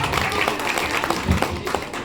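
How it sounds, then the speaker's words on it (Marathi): A crowd claps for children's prize winners at a school event, steady dense applause lasting the whole short moment. "टाळ्या."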